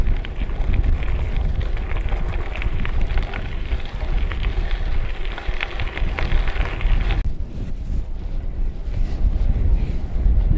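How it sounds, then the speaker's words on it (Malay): Strong wind buffeting an outdoor microphone, a loud continuous low rumbling roar with gusty fluctuations that eases briefly before picking up again. "Oh, yang angin kuat guys."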